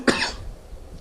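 A single short, sharp cough near the microphone, a quick burst followed by quiet room noise, alone without speech.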